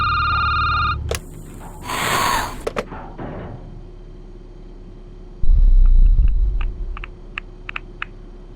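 An electronic telephone bell rings in bursts in the horror game Security Booth, sharing the clip with low rumble, a brief noisy whoosh and some clicking, tapping sounds near the end.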